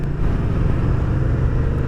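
A 2024 Moto Guzzi V100 Stelvio motorcycle being ridden, its engine a steady, continuous low rumble with wind noise, close and constant throughout.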